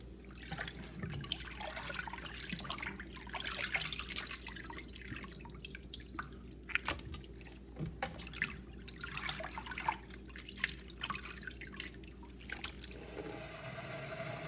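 Water trickling and dripping in a sink while chitterlings are rinsed in water and vinegar, a steady close wet patter with occasional louder splashes running throughout.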